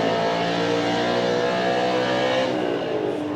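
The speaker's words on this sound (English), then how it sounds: "You can hear the dyno again." Ford Mustang engine roaring hard on a dyno at a Mustang and all-Ford car show, a loud sustained high-revving drone with dense harmonics that holds steady for several seconds before easing slightly near the end.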